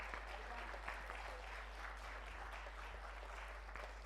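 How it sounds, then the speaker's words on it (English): Steady audience applause at a prize-giving during a memorial programme, dense continuous clapping from a hall crowd lasting throughout with no talk on top. "Please give them a big round of applause."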